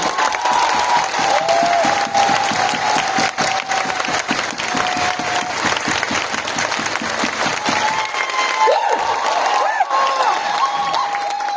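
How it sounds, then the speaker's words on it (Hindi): Loud applause and cheering fill a hall at a Modicare event in Patna, dense continuous clapping with whistles and shouts rising above it, the clapping dropping away near the end while voices carry on. "सबके लिए एक बार जोरदार तालियां हो जाए।"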